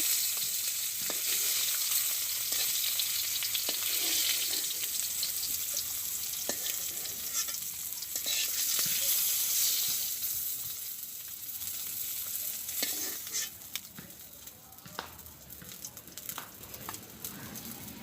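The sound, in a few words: fish frying in a pan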